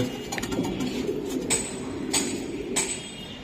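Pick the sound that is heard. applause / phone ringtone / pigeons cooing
pigeons cooing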